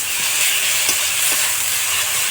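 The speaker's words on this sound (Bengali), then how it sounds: "জিরা বাটাটাকে একটু ভালো করে আমরা নেড়ে নিচ্ছি" A spatula stirs cumin paste in a hot frying pan while it fries for a village-style spicy curry, giving a steady close sizzle and hiss with faint scraping strokes and no voices.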